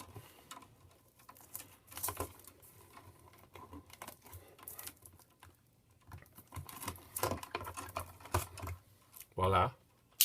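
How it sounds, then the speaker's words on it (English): Utility knife scoring and stripping the sheathing off electrical cable while wiring shed lights and outdoor plugs, heard as close, irregular scraping and clicking bursts with a sharper snap near the end, under occasional talk. "Cut our sheathing off."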